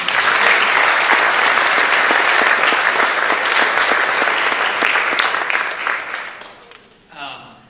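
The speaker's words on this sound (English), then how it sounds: "So big round of applause for those folks." A ceremony crowd gives student athletes at a signing event a loud, sustained round of applause with distinct claps throughout, tapering off near the end as a voice briefly begins.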